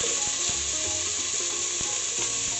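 Chopped onions and garlic sauteing in a pan make a steady, close frying sizzle with faint scraping of a utensil, heard on its own.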